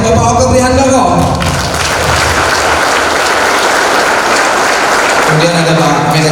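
An audience bursts into enthusiastic applause at a talk, a dense sustained clapping that rises after an introduction and fades as a voice resumes at the end.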